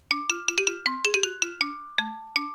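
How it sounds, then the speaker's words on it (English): Bright music box plugin tones doubling a xylophone melody in a homemade Vocaloid-style song, about a dozen plinked notes in an uneven rhythm, each with a sharp attack and short ringing decay, close and clear with no voices. "Let's just use this music box."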